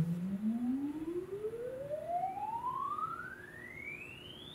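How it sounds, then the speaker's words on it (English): A steady pure sine tone recorded on a Sony ES cassette tape sweeps smoothly upward in pitch over a few seconds, with a faint higher harmonic tracking it above soft background hiss. "I also recorded a sine wave sweep to see the responsiveness of the tape itself"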